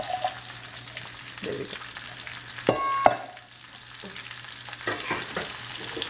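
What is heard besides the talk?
onions sautéing in a pan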